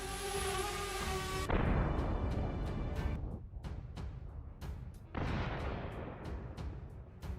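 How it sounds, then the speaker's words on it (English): An abandoned BMP infantry fighting vehicle, left after a failed assault, is destroyed by a massive ammunition detonation. A loud, sustained blast roar gives way to a rapid series of sharp cook-off bangs and pops, with no talking. "A massive ammunition detonation."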